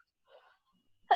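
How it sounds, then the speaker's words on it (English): A single short, sharp cough from a person bursts out at close range right after a faint breath, loud against near silence. "Had this little cough that comes out once in a while."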